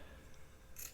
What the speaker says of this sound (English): I'm just going to cut this little piece right here off.